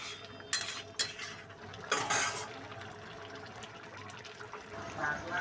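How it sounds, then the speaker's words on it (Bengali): A spoon scrapes and clinks against a cooking pot while jackfruit curry with small shrimp is stirred after hot water is added; a few sharp metallic knocks, then quieter stirring and a soft simmer. "গরম জল দেব। নেড়ে চেড়ে নিয়ে মিনিট 5-7 ভালো করে ফুটিয়ে নেব।"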